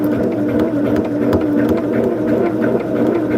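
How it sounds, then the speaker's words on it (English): A sewing machine stitches steadily along a marked line on a churn dash placemat block, a continuous close, even whirring drone with no talk over it. "And we'll sew on the line."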